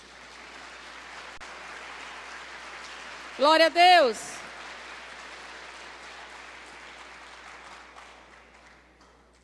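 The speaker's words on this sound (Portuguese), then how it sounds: "Dê uma salva de palmas para o Senhor" Congregation applauding at a family church service, a steady broad patter of clapping across the whole stretch, briefly overlaid by a loud sung or shouted voice in the middle.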